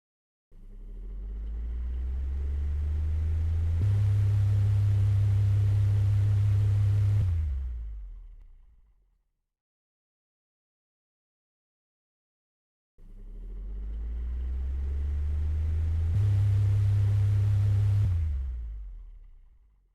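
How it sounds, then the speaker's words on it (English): A small motor driven by a micro:bit flex sensor glove, whirring up to a steady buzzing hum for several seconds, stopping into silence, then spinning up again in a second identical burst. "we run the motor at that speed"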